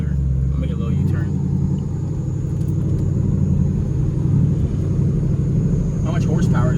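A Dodge Durango SRT with a 500-horsepower engine roars on a late-night Miami drive, a loud, steady low rumble filling the whole stretch without letting up.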